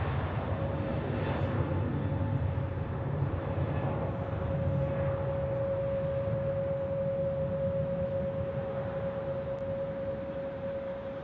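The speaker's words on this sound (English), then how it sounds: "On the runway currently, a Swiss A220 off to Frankfurt." A Swiss Airbus A220 airliner sits on the runway at Zurich Airport before departing for Frankfurt, a distant steady engine rumble and whine with a constant tone over wind, no talking.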